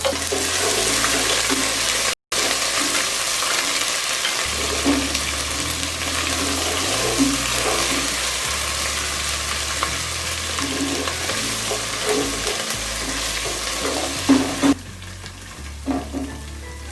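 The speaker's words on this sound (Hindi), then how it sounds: "अब हम इसमें अदरक लहसुन का पेस्ट ऐड कर देंगे।" Ginger garlic paste goes into golden brown onions frying in hot oil for kadhi pakora, producing a loud, steady sizzle with stirring scrapes and a brief dropout near the start.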